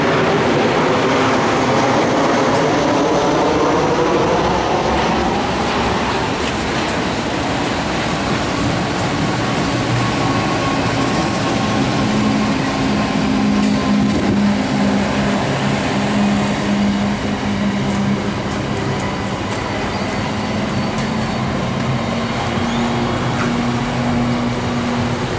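A freight train passes near the Torrens rail junction in Adelaide during construction works, a long continuous rumble with faint clattering of wagons, heard from close by and with no talking.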